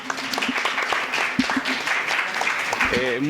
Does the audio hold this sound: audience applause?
yes